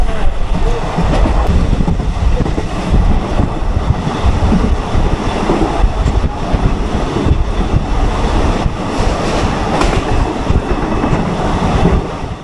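The Maa Tara Express rumbles through Barrackpore station without stopping, heard from inside a disabled compartment as a loud, continuous roar with rattling wheels and rail clatter.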